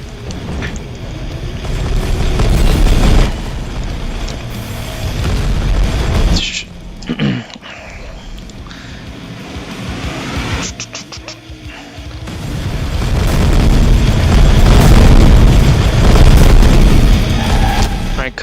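Heavy booms and crashing explosions in a Twisted Metal fan game as a tower is destroyed, loud bursts at the start and again near the end with a quieter stretch between.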